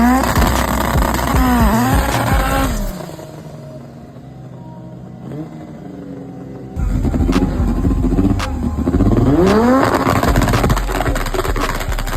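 Drag racing car making a pass down the strip: a loud engine roar with sweeping rev changes, dropping away into a quieter lull before surging back with hard acceleration and gear-change swoops.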